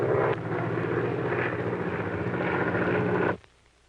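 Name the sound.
airplane engine in flight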